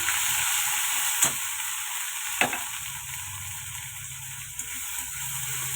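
Spices fry with onion, ginger and garlic paste in hot oil, a dense, loud, steady sizzle with a couple of sharp clicks of a utensil, heard close up.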